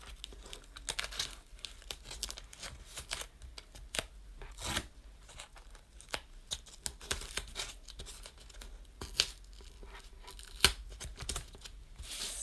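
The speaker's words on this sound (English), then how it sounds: "So we're just peeling away the sticky back plastic." Sticky back plastic and masking tape being peeled away from cardboard, a series of close, crackly tearing and crinkling strips with sharp rips between quieter rustles, no talk.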